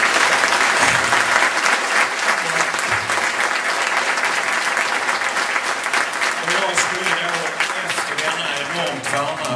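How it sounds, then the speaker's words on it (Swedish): Audience applause after an interview with a musician, loud and sustained full-room clapping mixed with crowd noise, steady from start to finish. "Applåd"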